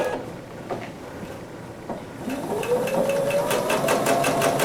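Domestic sewing machine stitching a pieced quilt block, starting quietly then running steadily with a rising motor whine and rapid needle chatter, close and alone.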